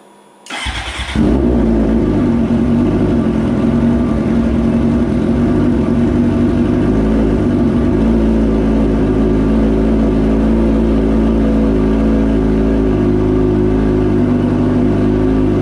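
A 2008–2010 Suzuki GSX-R600 sport motorcycle fitted with a Voodoo aftermarket exhaust fires up after a short crank and then runs loud and close, a steady raspy drone with slight revving swells throughout.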